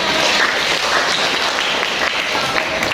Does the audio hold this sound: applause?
yes